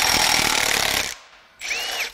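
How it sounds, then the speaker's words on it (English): Power tool unbolting an engine block from its stand, a loud, steady whir that stops briefly and then starts again for a short second burst. "Now I have to unbolt the block from the stand."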